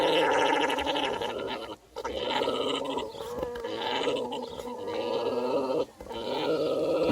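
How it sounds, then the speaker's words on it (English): A dog growls at two baby rats on a farm, a rough, gargling rumble that runs almost continuously with two short breaks, close and fairly loud. "Is that a friendly growl?"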